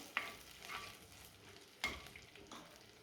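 Ginger being sautéed in a pan for fish curry, quiet stirring scrapes and a soft sizzle with a few sharp clinks of a utensil against the pan.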